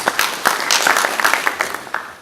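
An audience at a KUCCPS stakeholders forum gives a short burst of clapping, a dense patter of many hands that fades out over two seconds.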